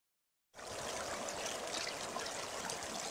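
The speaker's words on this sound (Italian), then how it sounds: "qui siamo sul fiume Ticino e come vedete abbiamo la nostra bella Spartan al lavoro in acqua" Water of the Ticino river rushing steadily through a Spartan gold sluice, a continuous close-up gurgling flow that begins abruptly after a brief silence.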